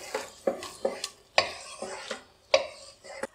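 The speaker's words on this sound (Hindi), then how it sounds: "और इसको अच्छे से हम भूनेंगे।" Boiled chickpeas and softened onions being stirred and roasted in a pan for chole, a spoon scraping and knocking against the metal in a series of sharp, uneven strokes over a faint sizzle.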